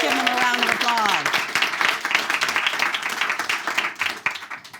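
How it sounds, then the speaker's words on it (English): Applause from a talk-show studio audience, a dense wash of clapping that runs alongside a speaking voice at the start and carries on for several seconds. "Let's give them a round of applause."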